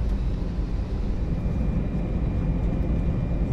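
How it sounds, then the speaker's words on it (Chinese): A parked airplane being refueled on the ground produces a steady, loud engine or ground-power roar, a broad continuous drone with no speech. "飞机在加油。"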